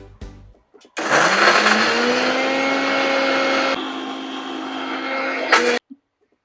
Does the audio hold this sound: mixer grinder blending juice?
yes